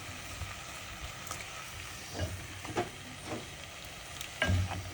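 A pot of fish curry bubbles and simmers steadily, with soft sizzling and occasional louder pops and stirring sounds, close by and without any talking.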